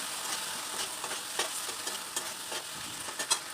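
Ground turmeric, chilli, cumin and coriander powder sizzle steadily in hot oil for a vegetarian papaya curry, with soft, repeated scrapes of a spatula stirring through the pan, close and continuous, with no voices.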